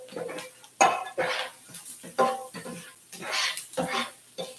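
Egg fried rice being stir-fried over high heat, spatula scraping and clattering against the pan in repeated strokes with light sizzling between them.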